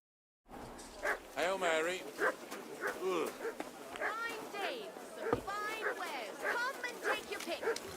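A dog in the medieval Bohemian world of Kingdom Come: Deliverance II gives a string of whimpers, yips and barks with a lively rise-and-fall rhythm, close by, mixed with ongoing talk.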